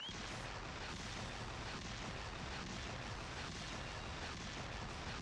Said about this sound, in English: Explosion montage.